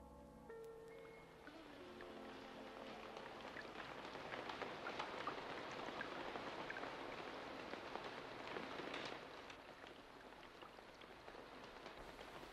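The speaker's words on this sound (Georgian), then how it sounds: "წვიმას იწყებს." Soft, steady rain patters continuously in a radio drama, an even hiss with no voices, after a brief tonal sound at the very start.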